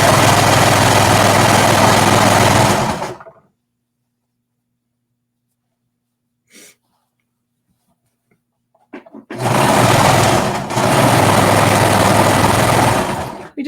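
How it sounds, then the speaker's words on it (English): Sewing machine stitching around the edges of leggings fabric, a loud close motor whir running for about three seconds, a long silent pause, then the steady whir starting up again. "Okay, so we're just gonna sew all the way around"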